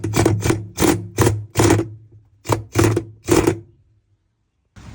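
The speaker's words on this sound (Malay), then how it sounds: "sekarang skru ni dah ketat." A screw being driven tight on the tub assembly of a Panasonic NA-F135X1 washing machine during servicing: about eight short, loud buzzing bursts of a powered driver in a steady rhythm, then a pause, with no talk.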